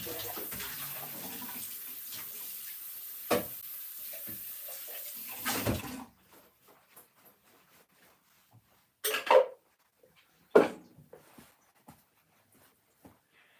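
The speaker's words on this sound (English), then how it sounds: "we give this a quick rinse now" Water from a kitchen tap runs loudly over a supersonic chopper being rinsed for about six seconds, then stops, leaving a few soft knocks and handling clatters.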